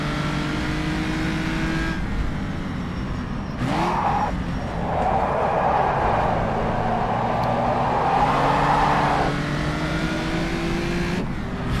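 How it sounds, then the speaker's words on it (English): An Aston Martin DB3 race car in a racing video game passes nearby, its engine a steady droning hum that swells into a louder, noisier rush and tyre scrub before settling back, heard with no talk. "Okay, that's an Aston Martin"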